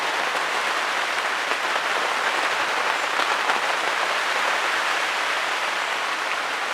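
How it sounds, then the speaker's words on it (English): Hard rain pours down in a dense, even hiss of countless drops, steady and loud throughout, with no voices. "Yep, that's a hard rain."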